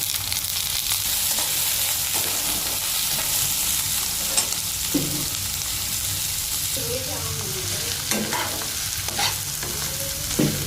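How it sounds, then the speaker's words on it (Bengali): Chopped onion, cut from one large onion, frying in oil with garlic and green chilli, with a continuous close sizzle and repeated spatula scrapes and stirs across the pan and no voices. "এখন পেঁয়াজটা তো ট্রান্সপারেন্ট করে ভেজে নেবে"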